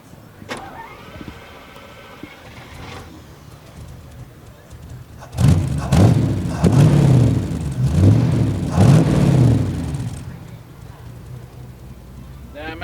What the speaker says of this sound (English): this Chrysler Firepower, the hemispherical head V8. Okay, here we go. Start her up.